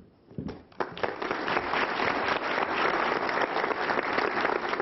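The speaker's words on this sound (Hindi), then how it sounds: "तो कवि सम्मेलन में सबसे पहले तालियों के साथ स्वागत कीजिए, हमारे साथ हैं अनामिका अंबर।" Audience applause at a Hindi poetry gathering (kavi sammelan), a sustained, dense burst of clapping that swells quickly after a brief start and continues loud and steady without speech.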